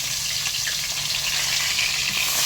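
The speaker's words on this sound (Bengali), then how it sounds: "মাছগুলো বেশি ভাজতে হয় না, অল্প অল্প করে ভাজতে হবে।" Fish pieces fry in hot oil with a loud, dense, continuous crackling sizzle that holds steady from start to finish, close by and with no voices.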